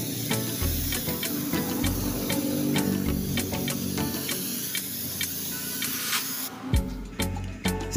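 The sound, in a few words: spraying chameleon paint over black base coat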